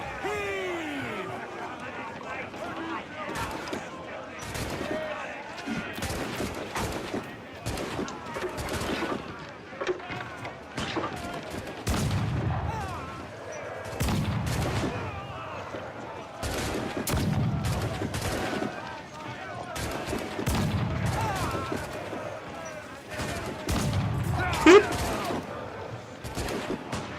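Ship cannons boom in repeated heavy volleys during a naval battle in Assassin's Creed 4: Black Flag, loud, rhythmic blasts spaced a few seconds apart under shouted crew chatter and game noise.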